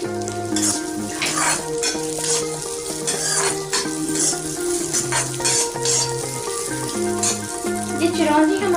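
Cashews, almonds and chironji nuts roasting in a pan, with steady stirring scrapes and a soft sizzle running under continuous background music.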